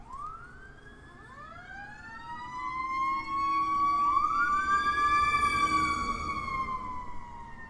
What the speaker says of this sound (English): That sounds like fire engine or fire rescue.